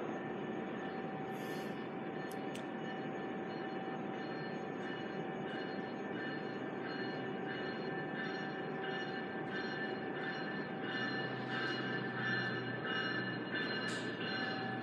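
An old commuter train cab car, GO Transit, rumbles past steadily at a distance at Bronte station, a continuous drone with faint rhythmic clicks of wheels over rail joints.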